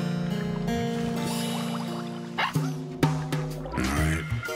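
A cartoon puppy barks at a school Halloween party, with a few short yips and whimpers over bright, sustained cartoon music that keeps playing underneath.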